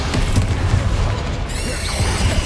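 A spell cast in Hogwarts Legacy, the disarming charm Expelliarmus, lands as a single loud booming crash with a bright shimmering tail under game effects and a faint voice.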